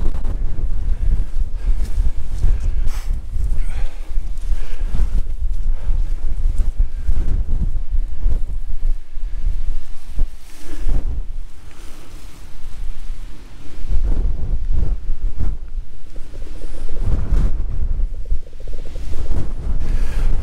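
Strong wind buffets a microphone on the summit of Cribyn, a mountain peak. The roar is loud and constant, with heavy low rumbling gusts throughout and no speech.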